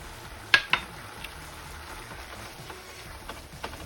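Salsa poured into taco meat simmering in a pan, a couple of sharp wet splats at first, then a soft steady sizzle and faint bubbling close up with no talk.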